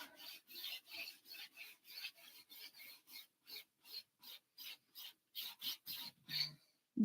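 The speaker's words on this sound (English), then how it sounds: "I'll grab another 1 inch brush and just come in and kind of start to build that wave" A 1-inch brush scrubs paint onto canvas in a tropical seascape, giving repeated rhythmic rasping strokes, close and fairly quiet, with short pauses between each pass and no talk.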